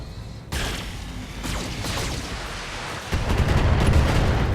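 Dense barrage of missile impacts and explosions rumbling together in BattleTech combat, a sharp onset followed by sustained crackling blasts that swell louder near the end, with no talking.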